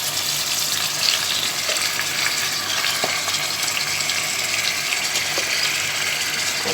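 A whole 1 kg chicken, cut into pieces, goes into a hot pan and fries with a steady, loud sizzle and crackle that runs throughout, with no talking.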